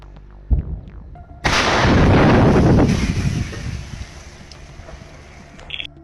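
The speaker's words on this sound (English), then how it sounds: "Two S-35 self-propelled artillery unit of the coalition SV shelling Ukrainian" S-35 self-propelled artillery shelling: a sharp report followed by a loud, booming blast that rolls on as a long roaring, rumbling decay, heard outdoors amid wind noise.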